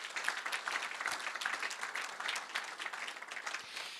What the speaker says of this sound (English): Please join me in a round of applause for Dr.